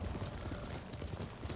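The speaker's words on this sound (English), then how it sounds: "You ride this horse around from the jump." Horse hooves clip-clopping in the samurai video game Ghost of Tsushima, a steady rapid patter of footfalls over a constant wash of wind or ambient noise.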